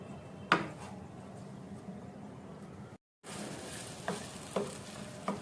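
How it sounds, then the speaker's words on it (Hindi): Onions fry in about three-quarter cup of cooking oil, a soft steady sizzle close by, broken by occasional spoon scrapes and clinks against the pan and a brief silent gap partway through. "प्याज को अच्छी तरह से गोल्डन सा करना है हमने"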